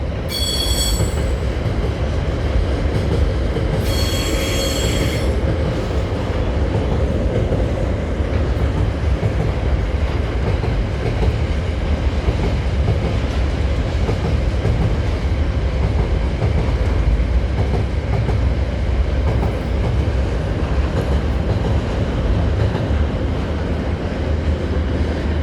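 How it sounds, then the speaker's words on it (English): A freight train of unknown class rolls past at a Leeds station, a loud, continuous rumble of wheels on rails with brief high squeals early on, the roar holding steady and close for the whole stretch. "There goes a freight train, and there goes that double Trans-Pennine Express."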